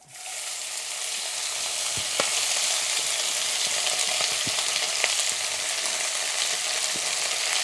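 Ivy gourd and potato sizzle and fry in hot oil with mustard seeds and cumin, a loud, continuous crackle punctuated by occasional pops and stirring.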